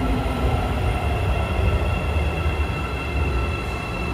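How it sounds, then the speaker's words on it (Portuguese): A São Paulo metro train rumbles along the rails, close and steady, with a constant low roar and faint high wheel whine. No one speaks. "Vou entrar no metrô, vou fazer a baldeação para o CPTM"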